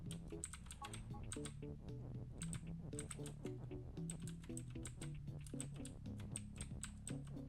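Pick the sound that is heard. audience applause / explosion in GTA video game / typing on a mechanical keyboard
typing on a mechanical keyboard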